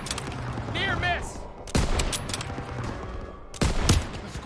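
Machine gun fire in Call of Duty WWII crackles in sharp bursts amid a battlefield din, with two loud impacts and shouted voices heard over the gunfire.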